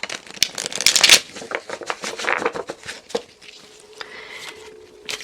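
Tarot cards shuffle in quick, papery riffles and soft slaps, in bursts of flutter with brief pauses, close by and without any voice.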